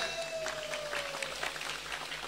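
Audience applause at an Indonesian religious selawatan gathering with young kyai on one stage, a dense steady patter of many hands with a faint tone running underneath, brief and fairly quiet.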